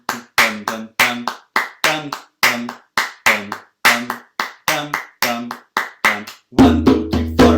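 Hands clap a steady rhythmic pattern of accented beats, about a dozen crisp, close claps at an even pulse, with a voice sounding along beneath them and a louder burst at the end.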